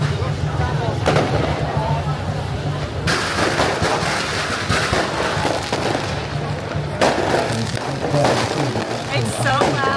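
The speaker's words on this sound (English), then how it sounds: "There's literally fireworks all the way around us." Chinese New Year fireworks burst all around a street in Penang, Malaysia, with dense crackling volleys, booms and whistling rockets, loud and continuous, while people talk and shout underneath.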